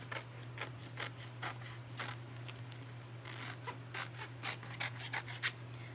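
Scissors snipping apart stencil sheets, a quiet series of short crisp cuts in an uneven rhythm over a low steady hum, close by with no voices.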